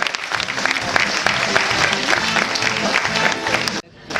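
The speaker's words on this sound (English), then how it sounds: "An applause please for our captain" Enthusiastic applause for the captain from a crowd aboard the cruise ship Seven Seas Voyager, dense and steady for about four seconds, with scattered voices mixed in before it cuts off abruptly.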